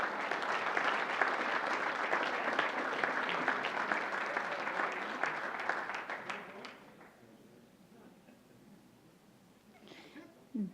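Audience clapping for student artwork at a school board meeting, a dense burst of applause that stays steady for several seconds, then thins out and fades, leaving faint room noise and a brief sound at the end.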